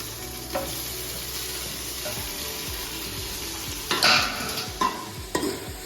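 Tomatoes and chicken curry masala fry and sizzle in a pan with steady stirring, the spatula scraping close by and a few sharper clatters of utensils toward the end.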